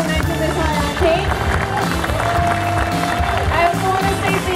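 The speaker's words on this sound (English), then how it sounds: "Round of applause to all the contestants here" An audience claps and cheers for contestants at the 2019 Miss High Octane pinup contest, a dense, continuous round of applause with crowd noise and music underneath.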